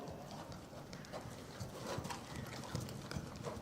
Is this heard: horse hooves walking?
yes